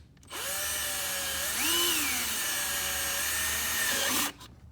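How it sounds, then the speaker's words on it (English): Power drill boring a hole into a car near the radiator hose during an F3 Bright Ryder install, a single steady whine of about four seconds that briefly rises in pitch midway, close and alone. "we're going to drill a hole here."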